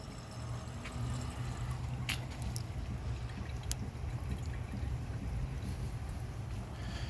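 A 1983 Mansfield Imperial toilet flushes, a continuous rushing gurgle of water that stays fairly even and close throughout, with a few sharp splashes and clinks early on and no one talking.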